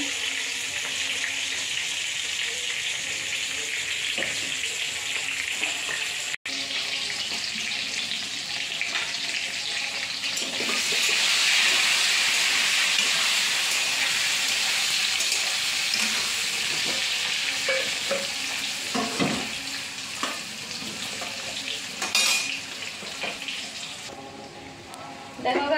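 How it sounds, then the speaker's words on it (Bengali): Pointed gourd (potol) sizzles in hot oil with turmeric in a pan, a steady crackling fry broken by scraping stirs, close and continuous with faint background noise. "পটলটা ভাজা হচ্ছে।"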